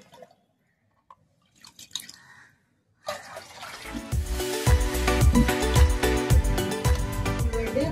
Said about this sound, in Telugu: నీళ్ళైతే నేను కలుపుతున్నానండి